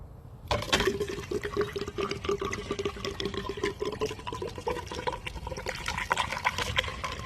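A bottle of fuel injector cleaner poured into the fuel tank of a Chevrolet Impala, a steady gurgling liquid stream lasting several seconds, close and continuous.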